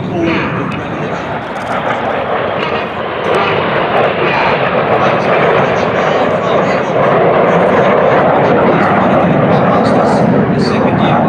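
Red Arrows display jets roar loudly and continuously overhead at an air show while flying a display manoeuvre, with a commentator talking over the noise.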